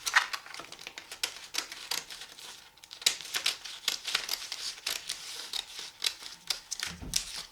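Scissors snip through a sheet of paper for a folded paper shuriken, a run of close, crisp cuts and rustles in an irregular rhythm with small pauses, and no voices.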